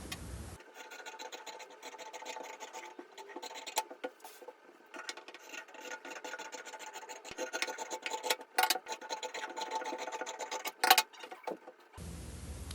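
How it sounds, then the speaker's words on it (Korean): Fabric is cut quickly for a quilted iPad pouch, with close, scratchy rasping and snipping strokes in an irregular rhythm. The cutting grows busier and louder toward the end, and no one speaks. "먼저 원단을 빠르게 재단해 주고요"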